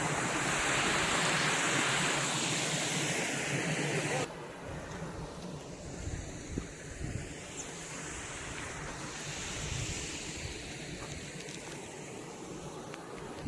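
A steady rush of flowing water fills the scene, a constant broad hiss with no break.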